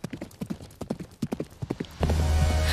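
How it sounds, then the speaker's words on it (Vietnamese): Horse hooves clip-clop in a quick, rhythmic trot on a road, growing nearer and clearer until the sharp knocks are joined by a sudden louder, steadier wash of sound. "Tiếng lóc cóc gió ngựa từ đâu đó nghe rõ dần."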